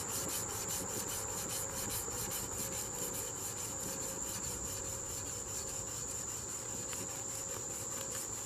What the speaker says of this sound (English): Back to 400 grit.